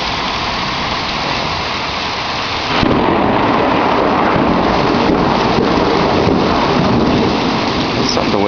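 A hail storm with heavy rain and thunder lashes down outside, flooding a lawn; a loud, dense roar of pelting precipitation swells abruptly a few seconds in and stays intense, with rumbling undertones throughout.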